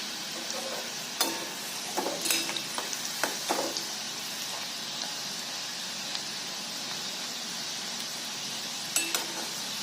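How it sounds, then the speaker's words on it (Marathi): Kadboli, sweet dough rings for the Bendur festival, frying in hot oil over a medium flame: a steady low sizzle throughout, with a few brief stirring clinks and taps near the start and again near the end. "मध्यम गॅसवरती सलग घालून हे छानसं गोल्डन ब्राऊन होईपर्यंत तळून घ्यायचंय"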